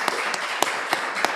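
Scattered audience applause at a literary conversation event, a soft bed of clapping with a few sharp, evenly spaced claps that ring out close by.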